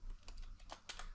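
Soft, rapid keystrokes on a computer keyboard during coding, several quick clicks in a short burst, close and quiet.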